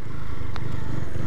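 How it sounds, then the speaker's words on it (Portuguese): A Honda CG 125 Fan motorcycle from 2008 revs close by, a low, steady engine drone holding through the short moment with no talk. "Acelerar, guri. Vamos acelerar."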